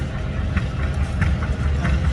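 Steady low diesel rumble from an idling 560 Wheatland tractor fitted with a 282 diesel, close and continuous at a tractor pull event.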